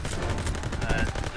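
Dense gunfire from a German MG42 machine gun in the Call of Duty: WW2 campaign, a continuous rattling burst of shots running throughout at steady volume.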